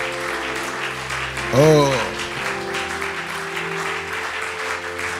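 At an evening church worship gathering, a congregation applauds and cheers in acclaim for the Lord. The clapping is steady and moderate, and a sustained voice rises briefly over it near the start.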